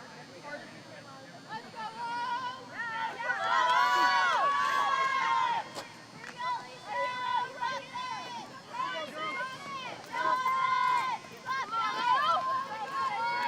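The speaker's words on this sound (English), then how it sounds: "Hear the chants in the crowd." Crowd chanting and cheering from fans at a girls' varsity flag football game, rising and falling in bursts, with a commentator talking over it.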